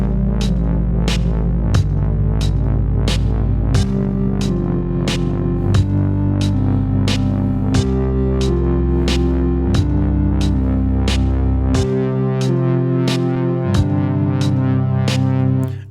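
Indie video game ending music: a steady bass line rolls beneath oscillating C and G chords, with bright percussive ticks marking a regular pulse throughout, loud and continuous with no voices.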